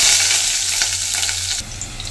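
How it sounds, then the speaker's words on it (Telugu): Onions sizzling in hot oil with curry leaves, garlic and a dried chilli, a steady close frying crackle with bright spattering pops throughout, no voices. "అవి లైట్గా ఫ్రై అయిన తర్వాత ఆనియన్ వేస్తున్నాను"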